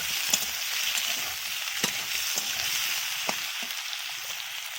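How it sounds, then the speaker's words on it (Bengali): Rui fish head and elephant foot yam dal cooking in a pan: a steady close sizzle runs throughout, broken by a few sharp clinks and scrapes of a spoon stirring, with no voices. "এখন আমার রান্নাঘরে রান্না হচ্ছে মাছের মাথা দিয়ে ওলের ডাল্লা"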